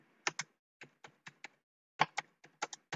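Keys clatter on a computer keyboard while text is entered in Notepad, crisp clicks in short uneven bursts separated by brief pauses, close and clear with no talking.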